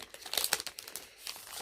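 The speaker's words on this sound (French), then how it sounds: "Désolée pour le bruit du papier" Paper crinkles and rustles as a package is unwrapped, a dense run of close, bright crackling bursts with no talking.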